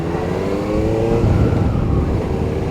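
A QJ Motor SRK 600RR 600cc sports motorcycle engine runs steadily with a smooth, sustained drone, swelling slightly as it revs mid-clip, then settling back, heard close and alone.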